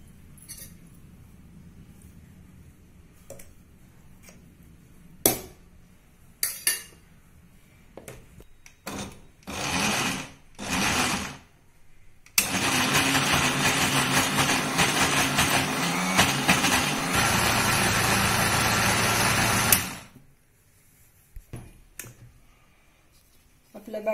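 A mixer grinds a poha rice flake and water batter in loud bursts. Short pulses come first, then one long continuous whir, and it ends with a few clicks.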